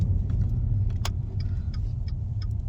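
Car interior road rumble, a steady low droning hum with faint clicks and a brief jingle of keys, continuous and close, no talking.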